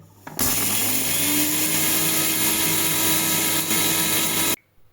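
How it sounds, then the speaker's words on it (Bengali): An electric mixer grinds dry-roasted red chillies, whole coriander and cumin with a loud, steady, high whine. It starts abruptly, runs for about four seconds and cuts off. "সো আমি এখন সেই ভাজা মশলাগুলো একসাথে মিক্সিতে গুঁড়ো করে নেব।"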